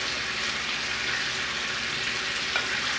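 Eight slices' worth of diced bacon sizzles steadily in a pot, a dense, continuous frying crackle that stays loud and close throughout with no talking.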